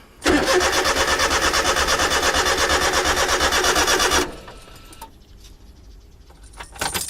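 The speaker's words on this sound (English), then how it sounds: "Give it at least a few cranks." A Honda Beat engine cranks hard for about four seconds with a steady, rapid rhythmic churning, loud and close, then cuts off. Faint clicks and low rumble follow in the quieter remainder.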